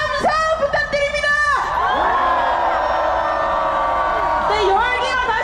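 A large crowd at a candlelight impeachment rally roaring and cheering loudly, voices rising together in sustained whoops and shouts across the whole span.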